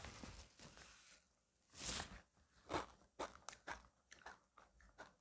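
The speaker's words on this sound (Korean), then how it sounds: "입에다 넣고 바짝바짝 씹어서 먹기도 합니다." Crunchy chewing of red ginseng beads, individually packaged, eaten whole: a few loud, sharp crunches close to the mic with softer mouth noises between them, and no talking.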